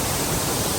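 Fast, heavy water rushing down a large waterfall on a forest ride near Kote Betta in Coorg, a steady dense roar filling everything.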